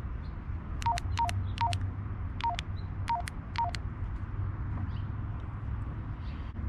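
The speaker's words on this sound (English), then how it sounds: "First we'll punch in the frequency." A Baofeng UV-5R handheld radio keypad gives seven short, clear beeps in an uneven run as a frequency is entered, heard close over a low background hum.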